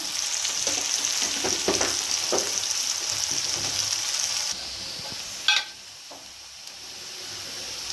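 Chopped onions with a little salt fry in a pan for a Bengali jackfruit-and-prawn curry, giving a steady close sizzle with stirring scrapes; the hiss drops partway through, followed by a brief sharp clatter and a quieter, softer fry.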